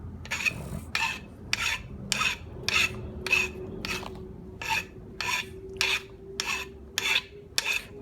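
Rhythmic rasping strokes of a file working burrs off the end of a rock, about a dozen evenly spaced passes close up, with a faint steady hum underneath.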